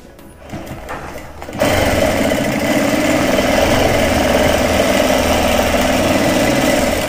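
An electric sewing machine stitches an army uniform, starting up after a quiet second and then running at a loud, steady, continuous whir close by.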